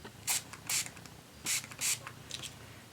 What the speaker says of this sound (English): I'm gonna just take this angled brush and spray it with water